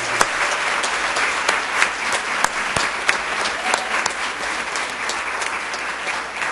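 Audience at a Rochester Board of Education business meeting applauding students, a steady wash of many hands clapping with a few sharper individual claps standing out, moderately loud and sustained throughout.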